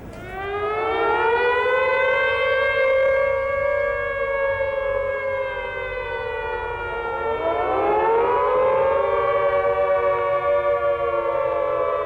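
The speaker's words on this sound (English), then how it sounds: "we're going to sound the sirens in Dallas County" Civil defense tornado sirens wail across Dallas County, a loud sustained rising and falling tone that dips and swells again as the rotating siren sweeps, with no talk over it.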